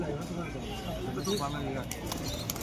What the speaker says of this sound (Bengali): এই যে বাড়ি দিচ্ছে কবুতর